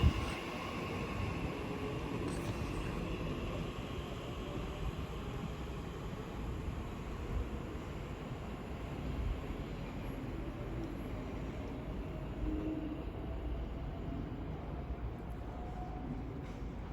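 An Elizabeth Line train runs through West Ealing station on the Great Western Main Line, a broad steady rumble and rush of wheels and air that holds at moderate distance for the whole stretch, without voices.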